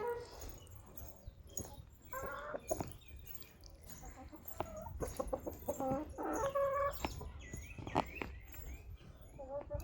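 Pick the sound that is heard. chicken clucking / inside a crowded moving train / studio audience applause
chicken clucking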